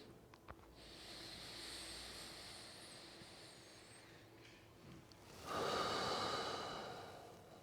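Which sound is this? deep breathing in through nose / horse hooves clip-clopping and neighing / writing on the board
deep breathing in through nose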